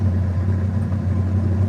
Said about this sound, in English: I don't know if you can hear the car or not